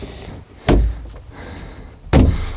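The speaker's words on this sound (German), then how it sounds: "diese Doppelschwingtür, so ein bisschen wie so eine Saloon-Tür" The double swing doors of a La Strada Avanti L campervan washroom, saloon-style, close with two sharp thuds about a second and a half apart, close by against faint background noise.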